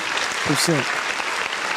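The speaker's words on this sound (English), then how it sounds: "round of applause" A short burst of crowd applause, sounding like an inserted sound effect, plays dense and steady for under two seconds while a voice briefly speaks over it.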